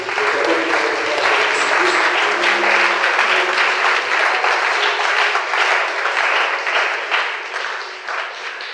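A church congregation applauding at a Sunday worship service, dense sustained clapping from a large crowd for about seven seconds before thinning out toward the end.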